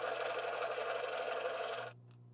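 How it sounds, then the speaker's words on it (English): A lathe turns a piece of UHMW plastic, giving a steady whirring, hissing cut that runs for about two seconds, then drops off to a low motor hum as the cutting stops. "So let's go to the lathe and make this a lot smaller."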